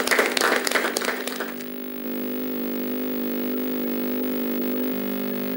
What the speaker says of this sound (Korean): 참가자들은 열광적인 박수로 맞이했습니다